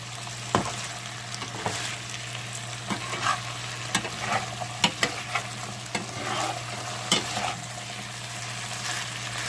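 Smothered potatoes frying in a pan are pushed around with a spatula: a steady sizzle with repeated sharp scrapes and taps at an irregular rhythm, close and with no talking.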